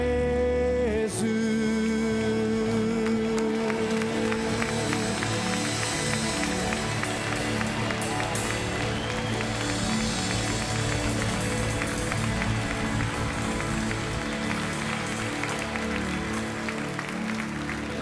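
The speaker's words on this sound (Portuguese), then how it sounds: "nós não cansamos de te aplaudir, Jesus" A church congregation claps continuously during worship, dense sustained applause over music and a voice leading the service.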